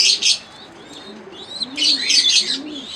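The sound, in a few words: pigeons cooing in a home aviary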